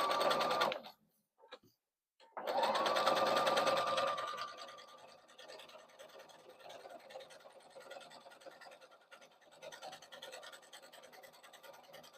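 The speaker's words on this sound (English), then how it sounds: "Now we're going to take it to the machine and sew a top stitch on one side" A sewing machine topstitches through thick layers of a crossbody bag, starting with short bursts, then a rising whir that settles into a long, steady, moderately loud run of stitching.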